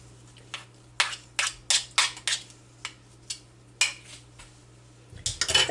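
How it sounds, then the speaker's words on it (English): Sugar and vanilla flavoring being mixed into thick cheesecake batter for mini cheesecake cupcakes, a series of sharp clinking scrapes against the bowl in an uneven rhythm, close and fairly loud. "So now I'm going to blend in the sugar and the vanilla flavoring."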